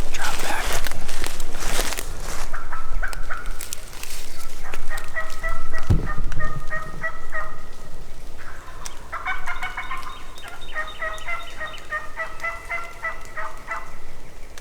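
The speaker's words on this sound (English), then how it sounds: "He just gobbled to a crow twice" A wild turkey gobbles during a spring hunt, answering a crow call in bursts of rapid, warbling notes around the middle and again near the end, heard at moderate distance over rustling and footsteps in the woods.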